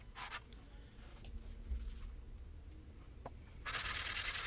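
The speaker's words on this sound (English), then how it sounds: "And time to clean off the rust and grime off the bottom." The rusty, grimy sole of an antique router plane is sanded by hand, producing close, quiet rubbing and scraping strokes that grow into a louder, harsher continuous rasp near the end, with no one talking.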